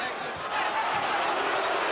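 A large arena crowd at the Ray Mancini vs Hector Camacho boxing match gives a sustained, loud wash of booing and jeering. It holds steady throughout, with no clear single voice.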